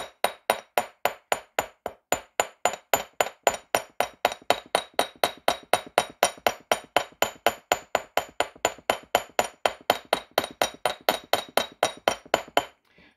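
Rapid, steady metallic hammer taps on jewelry wire over a block ring out close by, dozens of sharp even strikes in a continuous rhythm with a bright clinking tone.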